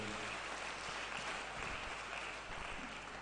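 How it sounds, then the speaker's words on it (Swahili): A church congregation claps together in a dense, sustained burst of applause that stays steady and close for the whole moment, with no voices standing out. "Tumpigie tena Yesu makofi mazuri"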